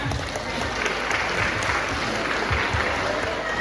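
Audience applause at a large open-air Islamic religious gathering, a dense steady wash of clapping lasting the whole stretch, with crowd murmur mixed in underneath.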